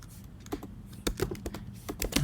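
Keystrokes on a computer keyboard while writing a PostgreSQL SQL query, a close run of irregular clicks with short pauses and a few louder taps, no voice present.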